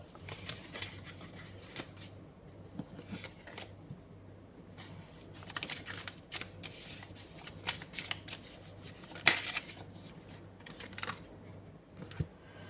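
Oracle cards are shuffled for a reading, giving soft, irregular papery flicks and riffles in quick bursts. The sound is close and quiet over a faint background hum.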